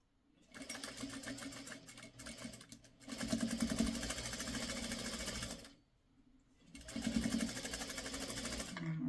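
Quilt fabric being sewn on a machine gives close, steady motor whirring in three long runs separated by brief pauses, with a rhythmic needle chatter throughout.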